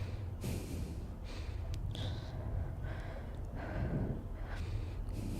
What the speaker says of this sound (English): Can you hear her? She's breathing.